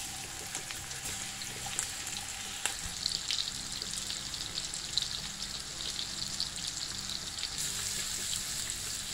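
Swedish-style IKEA meatballs sizzle steadily in hot olive oil, a soft continuous crackle with occasional pops, close up and fairly quiet, with no talking.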